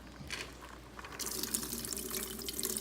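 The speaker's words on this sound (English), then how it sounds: "So we're going to drain the remaining water." Water drains out of a bowl of soaked dry beans, a soft trickle that swells into a steady, close pouring and splashing about halfway through.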